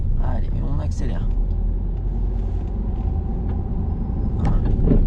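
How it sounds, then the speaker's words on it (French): A car accelerating on a road during a driving lesson, a steady low engine rumble running throughout the clip under a driving instructor's voice and sparse talk in the cabin. "Allez, on accélère."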